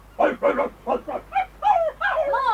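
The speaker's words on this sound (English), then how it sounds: "look, there's another dog." Dogs bark in a 1983 radio dramatisation, a string of close, sharp barks and yips followed by whining, growling vocalisations, loud with no words spoken.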